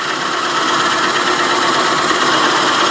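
A wood lathe spins at 500 rpm for bowl turning, giving off a loud, steady whirring hum that holds evenly throughout with no pauses or voices.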